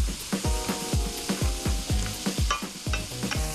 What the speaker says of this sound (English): Let's start with the leeks. Just gonna saute this up, and then my carrots can go in.